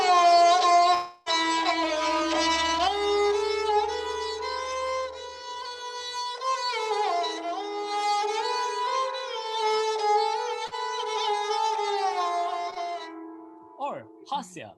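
A solo sarangi plays a slow raga in a sad, karuna mood, its bowed line sustained and gliding between held notes with expressive bends for about thirteen seconds before trailing off.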